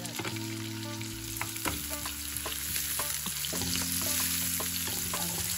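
Onions fry in a pan with a steady, close sizzle and crackle, punctuated by occasional stirring clinks and scrapes, alone without talk.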